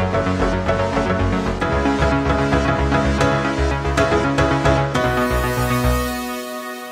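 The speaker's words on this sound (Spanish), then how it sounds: "los sonidos, estoy usando chord triggers." Dense synth chords triggered from a keyboard in a worship-song patch, layered with pads and bass in a full rhythmic wash, loud and continuous with no talking, then the sound thins out and decays near the end.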